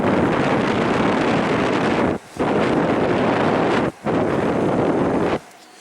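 Honeywell air purifier fan at its highest setting gives a steady, loud broadband whoosh of rushing air, broken by two brief dips before cutting off near the end.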